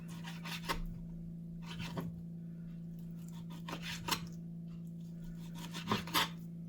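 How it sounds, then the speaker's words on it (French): A knife slices meat into thin strips for a Philly cheesesteak, giving a few separate rasping strokes spaced a second or two apart over a steady low hum, close and fairly quiet with no talking. "Puis on vient découper des fines lamelles."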